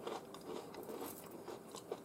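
Chocolate wheat cereal crunches in a mouth, eaten from a spoon. The crisp bites and chewing come as several quick, close crunches, quiet overall, with no speech.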